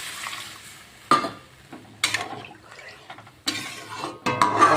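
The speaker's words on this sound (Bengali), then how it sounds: "এই যে এবার পরিমাণ মতন জল দিয়ে দেবো।" Water is poured into a pan of spiced parshe fish curry with aubergine and black cumin, producing several short bursts of splashing and sizzling between quiet gaps.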